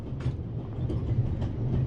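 A train carriage rolls steadily in The Raven Remastered, a continuous low rumble with soft rhythmic clatter, close and even throughout with no voices.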